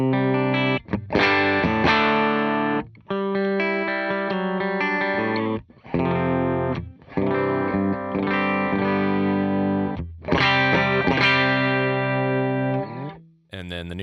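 Clean electric guitar, a Veritas Portlander with Lindy Fralin modern PAF pickups, split between JMI and Twinplex amps, playing ringing chords and phrases with short pauses, loud and close with no talking.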